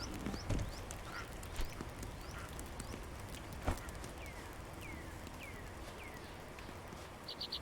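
Faint, soft birdsong plays in the video game Mirthwood: repeated short chirps and calls over a quiet ambient bed, joined by occasional clip-clop footsteps and light knocks, with no talking.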